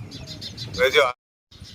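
Soft repeated bird calls, like pigeons cooing, sound close by among rustling, then break off into silence before resuming faintly.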